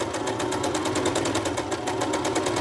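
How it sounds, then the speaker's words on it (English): A sewing machine back-stitches fabric for a junk journal cover, with a steady, rapid mechanical chatter close up and nothing else breaking in. "then you're just going to put it in your machine again, like we did before. Make sure it's all lined up with the edges. And then we're going to stitch."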